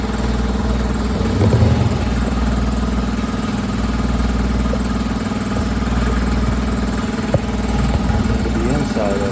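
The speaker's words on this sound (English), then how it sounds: "Sorry for the air compressor noise" An air compressor runs in a farm workshop during tire repair work, giving a loud, steady mechanical hum with a constant drone that holds for the whole stretch.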